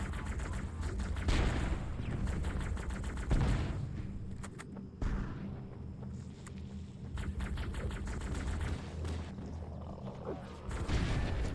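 Blasts of shotgun fire in a chaotic Halo: Combat Evolved battle between Elites and the Flood, several loud booming shots amid ongoing gunfire and game noise, with no talking.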